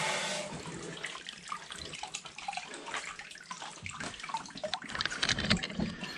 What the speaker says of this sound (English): Now we take the hose and kind of put all that black dirt that got under the mat into the